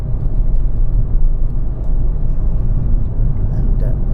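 A car travels down country lanes near the Somerset border, heading toward Bath, with a steady low road and engine rumble throughout.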